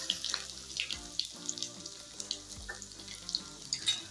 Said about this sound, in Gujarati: આ લસણને આપણે સરસ રીતના પહેલા તળી લેશું